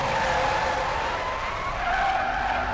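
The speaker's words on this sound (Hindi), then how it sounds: "दलबीर ने गाड़ी रोकी" A car braking hard and skidding to a stop on a highway at night: a loud, sustained tire screech over road rumble, holding steady for a few seconds.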